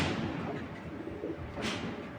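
A pigeon of a foreign fancy breed coos softly in a loft, low murmuring calls with a faint thump near the end, quiet and close.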